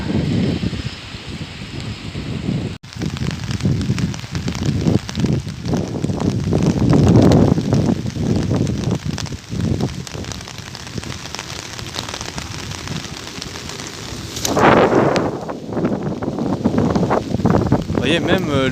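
Steady rain falls during a storm in Mauritius, a broad hiss of drops on surfaces with gusts of wind buffeting the microphone. A voice talks over it throughout, and a louder swell rises near the end.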